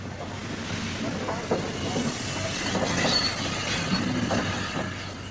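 A Maunsell Q-Class 0-6-0 steam goods locomotive on the Bluebell Railway, heard as a steady, fairly loud rolling rumble of wheels and hiss with faint clatter, continuous throughout.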